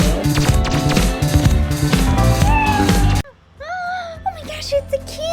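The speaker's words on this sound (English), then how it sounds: "Oh my gosh, it's a kitty!" A cat meows several times in a video game, short rising cries heard clearly after busy game music cuts out, with faint background noise underneath.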